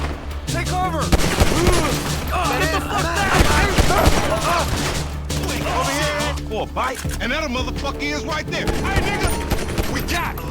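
Rapid gunfire in GTA 5 as a man on a motorbike is shot, with dense volleys of shots crackling continuously and loudly through the whole stretch over a layered game soundscape, and someone talking over it.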